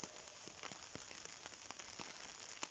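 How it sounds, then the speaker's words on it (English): Rain falling during an outdoor walk, a steady close hiss of drops with scattered sharper taps and patters striking nearby surfaces, continuous and fairly quiet, no voices. "And you can listen to the rain. It sounds good, doesn't it?"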